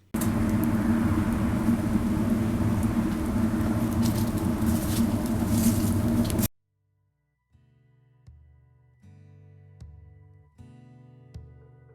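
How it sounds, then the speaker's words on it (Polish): A dense, steady roar of a wood-burning rocket stove fills the first half, loud and close, then cuts off abruptly, followed by quieter low tones. "piec rakietowy zawdzięcza swoją nazwę właśnie charakterystycznemu dźwiękowi"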